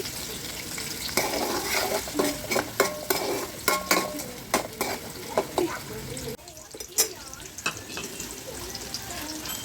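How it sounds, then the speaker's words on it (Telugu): Onion and green chillies fry in a pan for chicken biryani, a constant sizzle with frequent spatula scrapes and clinks against the pot, at a moderate level and fairly close. "మూడు పచ్చిమిర్చి అయితే వేసుకొని ఇవి కలర్ మారే వరకు అయితే ఫ్రై చేసుకోవాలండి"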